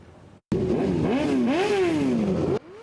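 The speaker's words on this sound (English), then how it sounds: "The sound of motorcycle engines revving in unison tonight" Motorcycle engines rev loudly together at a memorial, their pitch rising and falling in overlapping sweeps for about two seconds before cutting off.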